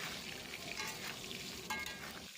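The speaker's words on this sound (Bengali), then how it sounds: "তারপর আমরা ভালো করে নাড়াচাড়া করে নেব।" Chicken with salt and turmeric stirred in a frying pan, a continuous close sizzle with scraping strokes of the spatula, fairly quiet and without voices.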